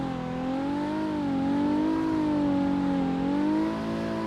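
Car engine revving steadily while drifting through a corner in the racing game CarX, played with a wheel; a loud, continuous droning whine that rises and falls slightly in pitch, alone with no talk.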